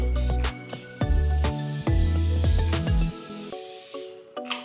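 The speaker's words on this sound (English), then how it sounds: "I'm going to use my Morphe spray" Quick hissing bursts of a Morphe Continuous Setting Mist makeup setting spray, a few short sprays, over steady background music.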